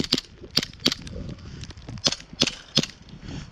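A Glock 19 pistol bump fired, with about seven sharp cracking shots in quick, uneven bursts, sounding fairly distant and light with quiet gaps between them.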